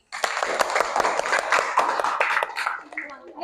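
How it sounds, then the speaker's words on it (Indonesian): A group of people, likely a class, claps for a presenting team, with many sharp hand claps in an uneven burst that starts abruptly, stays fairly loud for about three seconds and then thins out. "silakan beri tepuk tangan untuk kelompok detik"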